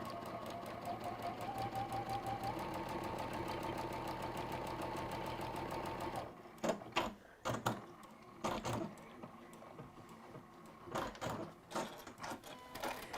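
A sewing machine stitches a seam in a steady, rapid run for about six seconds, then stops, followed by intermittent handling clicks and rustles.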